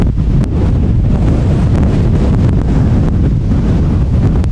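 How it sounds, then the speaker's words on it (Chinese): Strong wind on the summit of Qixing Mountain roars continuously into the microphone as a loud, buffeting low rumble that stays steady throughout, with no voices. "这边风好强哦"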